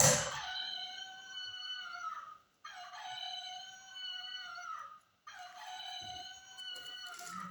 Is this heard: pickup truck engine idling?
no